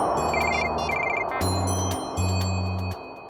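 A phone rings after a call is placed to an ambulance driver, with repeated electronic tone bursts in evenly spaced rings, fairly loud and clear over a low background hum; no one speaks.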